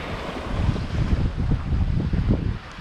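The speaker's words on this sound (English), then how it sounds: "So It's blustery. yeah. Some splashy waves." Blustery wind buffets a sailboat far out on the open ocean, a steady roar of gusts with waves splashing against the hull in irregular bursts, close and fairly loud, with no talking.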